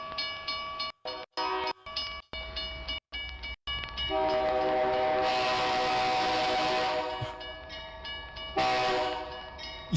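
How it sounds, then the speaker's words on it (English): A K5LA train horn in Microsoft Train Simulator, with a series of short choppy chord blasts cut by gaps, then a long sustained loud horn chord with rushing train noise, then a final renewed blast. "that K5LA sounds so good"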